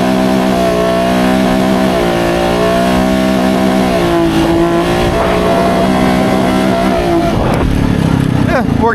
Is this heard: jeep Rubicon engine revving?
yes